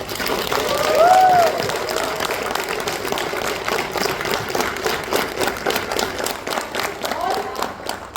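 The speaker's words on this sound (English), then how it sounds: "I must ask all of you to please a big round of applause for all the knowledge" An audience at a certificate distribution ceremony for an innovative training programme applauds, a dense, sustained burst of many people clapping in a hall that carries on for several seconds.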